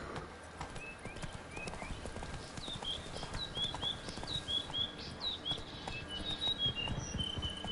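Roach, the horse in The Witcher 3: Wild Hunt, gallops with a rapid, rhythmic clip-clop of hooves. The hoofbeats are close and steady, with light bird chirps and ambient game sound behind them.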